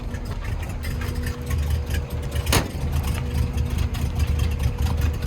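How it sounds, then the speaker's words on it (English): A cold truck engine with dual exhaust idles steadily with a low, rumbling exhaust note and a brief sharp click midway; no talking. "once it warms up, you'll get more of an idle out of it"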